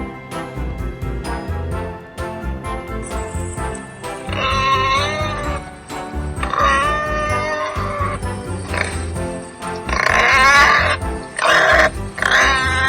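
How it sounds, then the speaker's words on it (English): Warthog grunts and squeals, loud and close, in several bursts of harsh snorting calls with short pauses between them and no talking. "W is for warthog."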